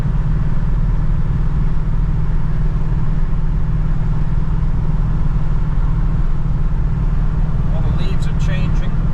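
A cammed Mercury Cougar engine drones steadily while driving, a continuous low rumble that holds a constant level throughout, with faint brief clicks near the end.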